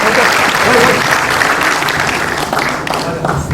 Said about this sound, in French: Et on les applaudit, s'il vous plaît.